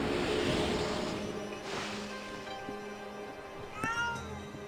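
A cat meows several times in the video game Ōkami HD. The cries are clear and tonal, and the last one is brighter, set against a soft wash of sea waves.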